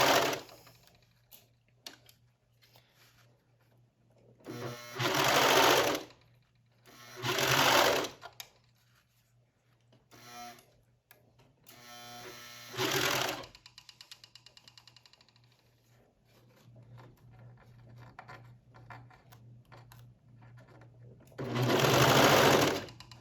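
A sewing machine runs a double needle along an elastic hem in several separate bursts of fast, steady stitching, each lasting about a second or two with quiet pauses between them, heard close up over a low background hum.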